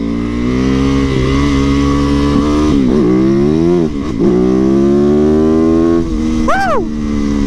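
A dual sport motorcycle rides hard and accelerates, its engine loud and close with rising and falling revs through gear changes and a sharp rev spike near the end.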